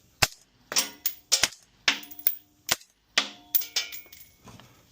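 Suppressed 5.56 rifle shots fired through a Resilient Stacy's Mom suppressor crack out in a rapid uneven string of about a dozen sharp reports, some clustered in quick pairs, close and loud with short ringing tails.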